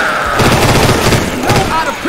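Rapid gunfire in Left 4 Dead 2 rattles loud and close in a dense fusillade of overlapping shots with booming low end, while game character voices call out over the shooting.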